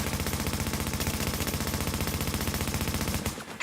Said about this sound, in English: Fortification at Charlie is taking enemy fire.